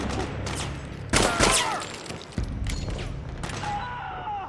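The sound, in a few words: gunfire in the video game Metal Gear Solid 4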